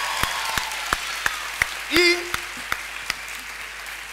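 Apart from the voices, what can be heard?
audience applause for two guests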